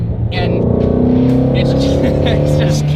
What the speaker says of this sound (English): The exhaust note, I mean, sounds so good. That's maybe the best part of the car, and it's just casual half throttle.